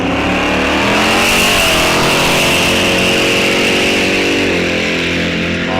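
Drag race cars launch side by side at Rock Falls Raceway at a muscle car event, one with nitrous, their engines roaring loud and continuous as the revs climb through the gears.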